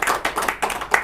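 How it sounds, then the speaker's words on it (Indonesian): A short burst of several hands clapping together at an Indonesian talk show, loud and close, with a few uneven claps. "Ya, tepuk tangan dong."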